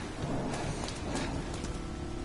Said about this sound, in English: And the thunder rolls and the lightning strikes.